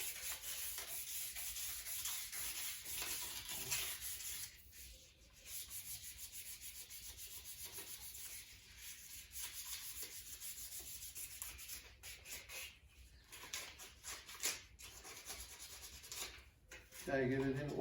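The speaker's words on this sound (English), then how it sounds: "so we're sanding all the parts of our bow, the ends" Sandpaper rubs back and forth over a PVC bow, a close, steady scratchy hiss in long strokes with brief pauses and a few bumps of handling.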